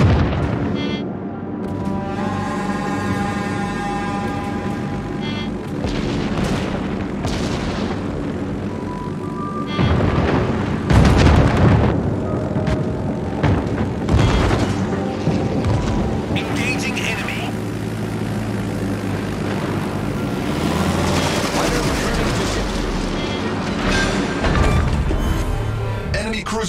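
A cruiser exploding in a naval video game, with heavy booms and rumbling blasts layered over continuous battle noise and engine drone, loud and dense throughout.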